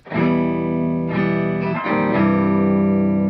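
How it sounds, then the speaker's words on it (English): Electric guitar run through an EHX Pitch Fork pitch shifter, a sustained harmonically rich metallic tone with a few chord changes, loud and steady with no voices. "Pitchfork still has that kind of metallic thing happening"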